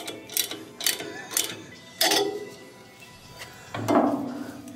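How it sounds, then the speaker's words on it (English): A custom puller draws the impeller off a fan, making a series of close metallic ratcheting clicks and clunks with uneven gaps and a scraping grind near the end. "That's Chad removing the impeller."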